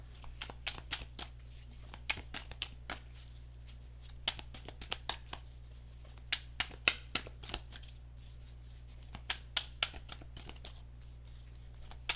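Soft, irregular riffling and tapping of tarot cards being shuffled nearby, a quiet run of clicks and flutters with no talking.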